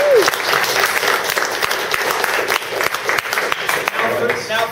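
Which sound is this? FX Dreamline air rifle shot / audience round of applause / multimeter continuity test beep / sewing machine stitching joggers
audience round of applause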